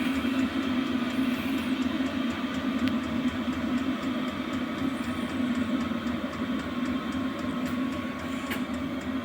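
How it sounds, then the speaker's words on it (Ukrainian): Fuel pump on a 5.5 kW diesel heater running as it settles to its minimum setting, giving a constant close mechanical hum with faint, regular ticking on top. "Це насос, який подає пальне. Так він звучить."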